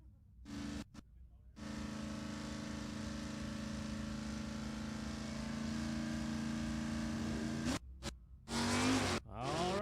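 An H Stock automatic class stock eliminator drag car launches at an NHRA race, its engine swelling into a loud sustained roar that cuts off abruptly, with short bursts of sound near the end.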